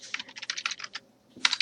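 Bursts of computer keyboard typing while facesheet details are entered, a quick run of keystrokes, a short pause, then a final cluster of taps, close and clear with no talking.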